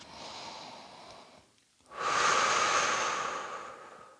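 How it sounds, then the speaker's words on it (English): A deep exhale during a Pilates hip stretch fades out, then a long, loud, breathy inhale or exhale follows, close to the microphone and alone. "And then nice big breaths."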